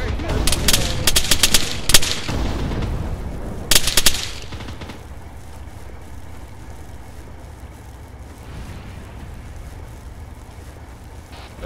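Military shooter gameplay in ARMA 3, with loud bursts of automatic gunfire in the opening seconds, a second burst around the middle, then a lower rumbling background of engines and wind.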